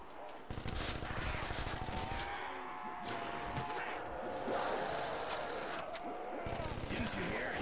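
MTAR rifle fire in a World at War zombies custom map, with bursts of gunshots mixed into dense game sound and players talking over it.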